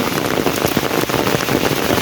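Heavy rain pours down steadily on an open paddy field during rice planting, a dense, continuous close-up hiss of drops drumming on surfaces with no let-up.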